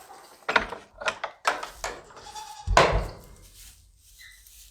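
New fainting goat on a homestead, giving short bleats and a louder drawn-out cry mixed with thumps and knocks in a small pen, fairly close.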